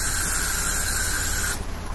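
Spray bottle spraying, one continuous close hissing spray lasting about a second and a half before cutting off.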